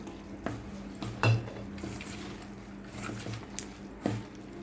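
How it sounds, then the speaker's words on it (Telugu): Onion pakodi batter being mixed by hand with water in a bowl gives soft, irregular wet squishing and stirring, with a few sharper clinks against the bowl, close and fairly quiet, with no talk. "వాటర్ కొన్ని కొన్ని పోసుకుంటూ మంచిగా కలుపుకోవాలి."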